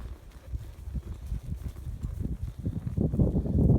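Hooves of a horse walking on open ground while trailing yearling cattle, a soft irregular clip-clop that stays close and low, building louder toward the end with faint rustling around it.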